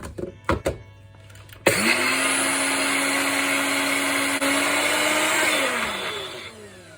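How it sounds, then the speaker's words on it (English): A NutriBullet blender grinds warm sesame seeds, starting abruptly after a few clicks and handling sounds, then running as a loud, steady whining motor with a constant pitch before winding down near the end. "I'm going to be using my NutriBullet to grind this out."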